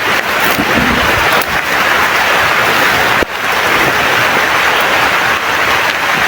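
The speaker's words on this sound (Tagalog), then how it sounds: "Malakas ulan." Loud, steady broadband hiss of heavy rain pouring down without pause, dense and close, with a brief dip near the middle.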